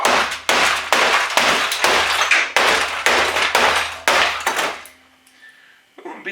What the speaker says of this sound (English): I'm beating up the hammer pretty good here.